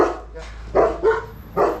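A dog barks three times in quick succession outdoors near fencing work, sharp close barks over a low background hum.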